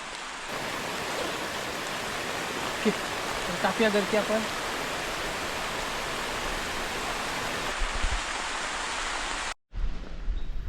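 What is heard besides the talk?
heavy evening rain while night camping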